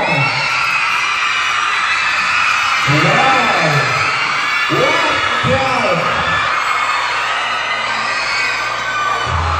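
A large crowd at a campus concert shouts and cheers loudly throughout, rising in a few swelling waves of excited whooping.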